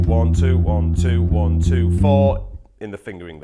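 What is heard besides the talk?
No everyday noises stand out.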